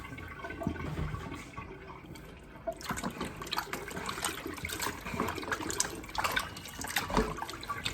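Vinegar pours and splashes steadily for several seconds, a close, wet gurgling stream with faint clinks, no talking.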